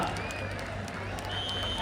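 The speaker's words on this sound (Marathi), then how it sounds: "टाळ्या वाजवा जरा" A crowd at a Maharashtra Kesari 97 kg clay-pit wrestling final claps and cheers for a wrestler, steady continuous applause filling the outdoor ground with a low hum beneath it.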